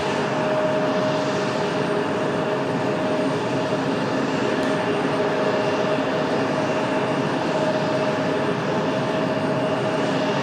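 Aircraft engines at Raleigh Durham International Airport make a steady, loud, unbroken roar, with a whining tone that holds constant throughout.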